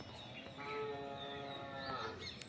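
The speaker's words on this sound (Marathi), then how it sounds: "मस्त गाई ओरडता," Cows low in a rural village yard in the early morning. The moos are quiet and somewhat distant, heard over soft outdoor ambience.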